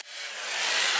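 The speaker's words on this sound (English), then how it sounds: "I'll sand the inside," Sanding the inside of a large wood burl bowl on a lathe, a steady close hissing abrasive rush that builds slightly and holds, no voices.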